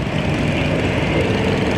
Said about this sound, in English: So here we got a John Deere lawnmower.